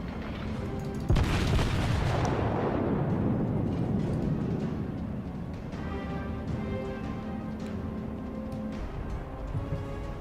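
A single heavy boom from the battleship Kongo's long-range guns in World of Warships bursts out early and rolls away over several seconds, leaving a quieter background with faint tonal hum.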